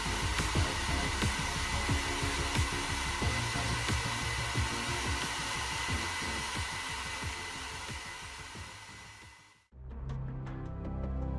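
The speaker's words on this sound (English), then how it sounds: "Use hairdryer to evaporate any remaining debonder." A hair dryer blows steadily on a plastic scale model to evaporate leftover glue debonder, a loud even whooshing roar that cuts off briefly near the end and then resumes.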